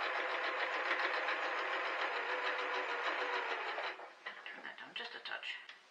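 Sewing machine stitching quilt pieces together during quilt top assembly, a steady continuous whir that runs for about four seconds and then breaks into shorter uneven bursts as it slows, with no talking over it.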